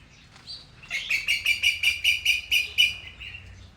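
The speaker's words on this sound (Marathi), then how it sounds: "बघितलं का पक्ष्यांचा कसा आवाज येतोय." A bird sings from a tall tree at an old village-centre Vishnu temple, a quick series of about nine bright, evenly spaced chirps up close, the rhythmic notes rising out of a quiet background.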